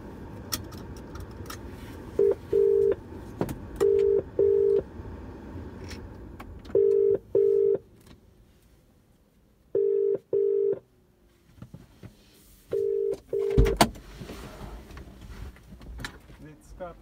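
A phone rings out on a call to a customer, with repeated paired electronic ringback tones in a steady pattern, while low background noise and a brief rustle sound nearby.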